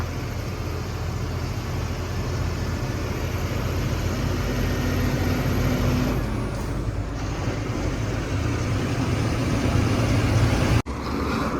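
A heavy truck rolls along a highway between Mumbai and Mangalore, a loud, steady engine and road rumble that holds throughout with only a brief dip near the end.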